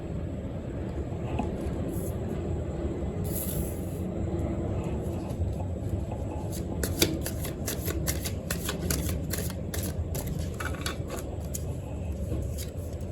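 Tarot cards are shuffled with quick crisp flicks, most of them in the second half. They sit over a constant broadband hum like a fan or an engine.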